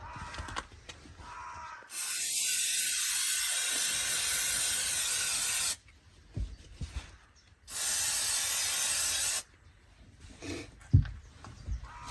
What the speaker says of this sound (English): And spray a little bit here inside.